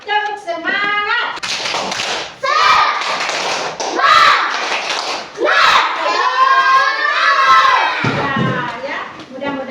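A class of children claps and chants together in a rhythmic cheer, with loud shouted young voices and claps filling the room, sung in an uneven group rhythm.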